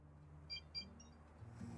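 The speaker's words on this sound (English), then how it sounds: "Oh god, phone beeping." A phone gives several short, faint electronic beeps in quick succession over a quiet room hum.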